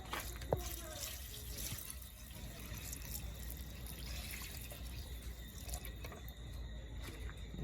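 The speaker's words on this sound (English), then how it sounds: "I'm going to add a little water in the pot." Water is poured into a cooking pot of goat soup with gungo peas, a faint, steady trickle and splash that runs continuously after a single small clink near the start.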